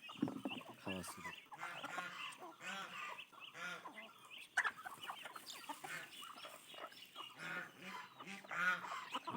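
Backyard chickens clucking and squawking busily while feeding on scattered grain, several birds calling over one another, close by, with a person talking over them throughout.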